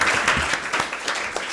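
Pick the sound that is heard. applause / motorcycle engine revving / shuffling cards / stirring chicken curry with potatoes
applause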